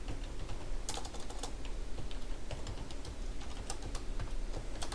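Code being typed on a computer keyboard: rapid, uneven key clicks patter continuously at close range, with occasional sharper strikes standing out.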